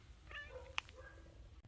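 A pet cat gives a single short meow close by in a quiet garage, with faint background hum and a soft clatter just after.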